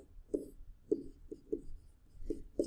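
A math answer handwritten with a pen or pencil, soft close scratching strokes in short regular bursts about every half second, faint and alone.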